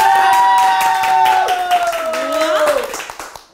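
Applause and cheering from a small crowd at a year-end party, a dense patter of clapping that runs throughout and fades toward the end, mixed with loud sung or shouted voices over it.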